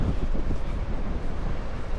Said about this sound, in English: The wind is horrendous